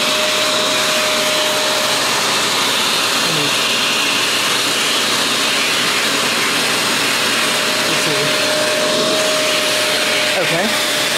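A Fantom Wildcat vacuum cleaner with a 6-amp motor runs continuously and loud, a steady whooshing roar with a faint whine and no breaks.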